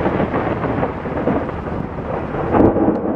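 Thunder from a lightning supercell storm over Tyler, Texas rumbles continuously and loudly throughout, swelling into a heavier roll near the end with no voices.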